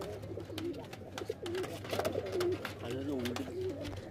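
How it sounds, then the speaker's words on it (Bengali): Madras pigeons in a loft coo repeatedly with soft, warbling calls close by, over a low background hum and some faint human voices. "পায়রা দূরে দেখো শুধু।"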